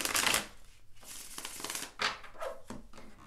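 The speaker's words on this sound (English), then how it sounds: "let's put these back and we'll shuffle" Tarot cards being shuffled by hand, a papery riffling and slapping in several quick bursts with brief pauses between, close and fairly clear, no talking over it.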